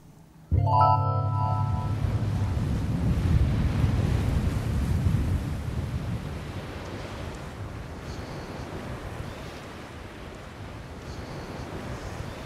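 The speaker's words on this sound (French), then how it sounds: "comme on a du vent, du vent d'est" Steady east wind blows across a Mediterranean beach during surfcasting, with broadband surf and wind rumble filling the clip after a sudden start, loud and continuous, easing slightly toward the end.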